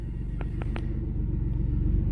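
A pickup truck's engine idles just after starting, a loud, steady low rumble with a few short clicks or ticks early on and no voices over it.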